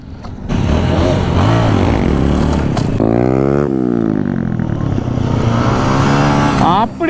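A motorcycle engine roars loud and close as the throttle is opened for a wheelie, the pitch rising and falling across several revs, with someone talking over it.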